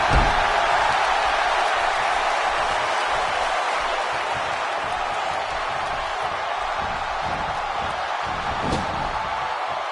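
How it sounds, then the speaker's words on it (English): Electric arena crowd in a PS4 WWE wrestling game, set in Los Angeles, roaring and cheering continuously at high volume with steady, dense noise throughout, occasional sharper peaks rising from the din. "When you listen to this crowd, they're absolutely electric."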